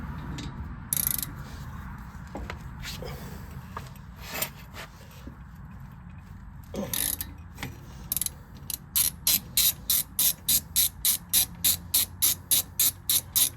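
A ratchet loosens the brake bracket bolts on a Honda CR-V, starting with scattered clicks and clanks and then settling into a rapid, evenly spaced run of loud, close ratcheting clicks, with no talking.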